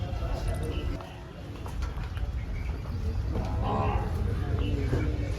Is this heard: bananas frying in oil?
no